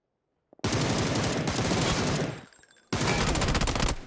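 SMG gunfire in a first-person shooter game: two sustained bursts of rapid automatic fire, loud and close, separated by a brief lull with a few trailing shots.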